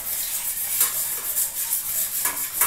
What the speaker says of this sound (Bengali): খন্তা দিয়ে তেলটাকে থালার মধ্যে মাখিয়ে নিলাম।